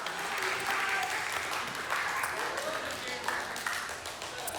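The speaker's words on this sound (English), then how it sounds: "So can we give him a little love and a little round of applause here?" An audience at a high school church night gives moderate applause for the high school pastor, with steady clapping and a few faint voices running under it throughout.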